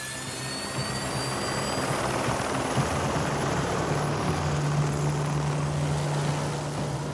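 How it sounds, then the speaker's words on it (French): A helicopter hovers close by while lifting a statue, a loud steady rotor thrum and engine roar with a high turbine whine, continuous throughout. "l'hélicoptère, faut que ça approche très près de la statue."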